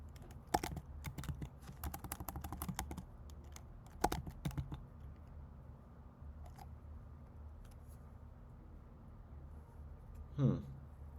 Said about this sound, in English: you'll need to start typing in here